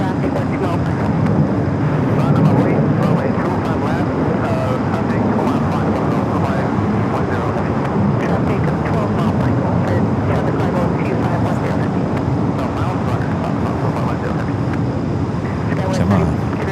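A cargo airliner arriving on runway 25 left at Los Angeles International Airport gives a steady, loud, broad jet roar that holds evenly throughout without fading.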